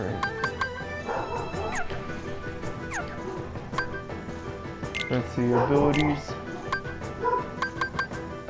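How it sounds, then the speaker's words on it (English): A dog in Kingdom Hearts 2 Final Mix's Land of Dragons barks, yips and whimpers repeatedly, close and loud, over game music and effects. "Dog needs to calm down."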